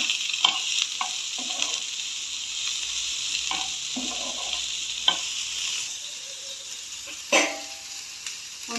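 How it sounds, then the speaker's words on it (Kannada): Onion and tomatoes shallow frying in a pan for a spicy fish sambar, a continuous hissing sizzle with repeated stirring scrapes and a few louder clatters of the spoon, no voices. "ಮತ್ತು ಟೊಮ್ಯಾಟೊ ಶಾಲೋ ಫ್ರೈ ಮಾಡಬೇಕು."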